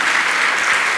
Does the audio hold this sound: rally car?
no